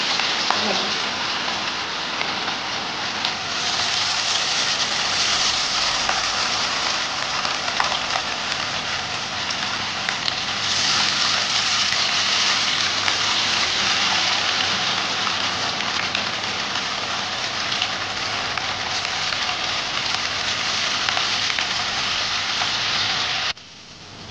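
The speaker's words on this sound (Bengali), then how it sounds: "তারপর এক এক এই চিকেন পিসগুলো আমরা গরম তেলের মধ্যে দিয়ে দেবো।" Chicken 65 pieces frying in hot oil in a pan, giving a steady, loud, rain-like sizzle that holds evenly throughout and then cuts off abruptly at the end.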